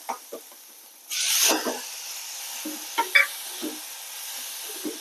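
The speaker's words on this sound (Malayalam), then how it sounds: "തക്കാളി ഇട്ട് ഒന്ന് വറുത്ത് കൊടുക്കാം" Tomatoes dropped into bitter gourd frying in a pan for sambar set off a sudden loud sizzle burst that fades into a steady low hiss, broken by scattered close scrapes and knocks of stirring, with no talking.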